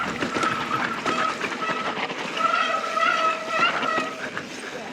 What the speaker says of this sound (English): I am most sorry about the brake squeal.